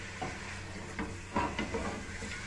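Chicken fries in oil with garlic while being stirred, a soft continuous sizzle broken by a few light scraping clinks of the utensil against the pan.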